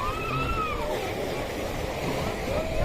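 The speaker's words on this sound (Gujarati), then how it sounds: "જો કેવું ગોમતીનું પાણી આવે છે જોરદાર" River water of the Gomti surging and splashing at Dwarka, a steady broadband rush of waves that stays loud and continuous throughout, with faint voices in the background.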